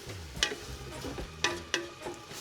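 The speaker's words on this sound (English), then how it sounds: "It's sizzling. That means that all of the vegetables are no longer frozen." Soft sizzling from a pot of frozen vegetables and lean turkey for goulash, with a few sharp clinks and stirring scrapes, steady and close, no voices.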